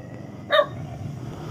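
A single short dog bark rings out once, sharp and fairly near, over a quiet background.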